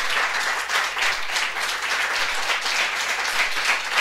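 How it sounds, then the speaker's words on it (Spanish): A church congregation applauds during a Sunday service, a dense, even wash of many hands clapping that holds steady from start to finish with hardly any voices. "Dele un aplauso al Señor,"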